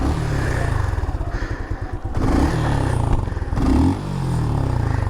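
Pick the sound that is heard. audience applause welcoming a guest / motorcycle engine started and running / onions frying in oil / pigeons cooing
motorcycle engine started and running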